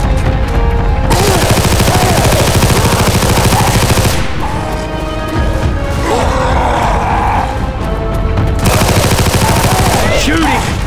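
Sustained automatic gunfire from a Left 4 Dead 2 Tank Run mutation match, loud and continuous with rapid bursts throughout, mixed with grunts and in-game effects, briefly thinning midway.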